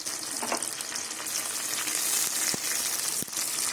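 Tomatoes added to hot oil with spices after fried onions, giving a steady close sizzle with bright crackling spits and a couple of sharp clinks from a spoon or pan, no talk.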